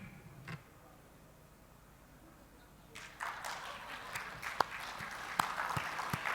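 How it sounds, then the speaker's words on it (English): An audience at an education festival panel breaks into applause after a quiet stretch, the clapping swelling from scattered claps into a dense, sustained round with a few sharper individual claps. "So 3 is when you clap."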